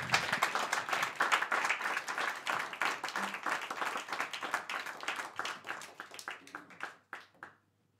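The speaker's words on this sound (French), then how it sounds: "Merci de l'applaudir." An audience applauds a singer on the French music show Le Pont des Artistes, with dense clapping that stays steady for several seconds, then thins to a few scattered claps and stops.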